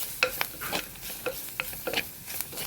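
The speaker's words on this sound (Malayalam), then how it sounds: "ഇനി നന്നായിട്ട് ഒന്ന് ഇളക്കി കൊടുക്കാം" Chilli and spice powders stirred in a pan for a mackerel curry, a spoon scraping and tapping in short irregular strokes over a faint sizzle, close by with no voices.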